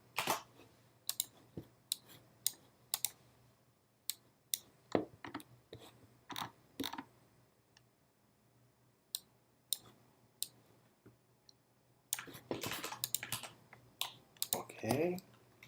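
Typing on a computer keyboard while writing C++ code: bursts of sharp key clicks spaced by pauses, then a fast dense run of keystrokes near the end, close and fairly quiet.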